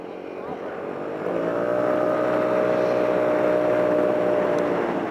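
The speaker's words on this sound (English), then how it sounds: "There's a chopper." A helicopter passes overhead outdoors, its engine drone swelling from quiet to a loud steady roar with a sustained tonal hum that holds through to the end.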